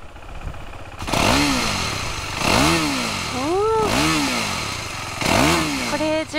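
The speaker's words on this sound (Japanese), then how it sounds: "この何もしてない時は単気筒らしいトコトコした感じなんですけど、グワッて開けるとボワーンってね" A KTM 390 Duke single-cylinder motorcycle starts up close by, then its engine is blipped in four sharp revs that swell and fall back to a thumping idle between each.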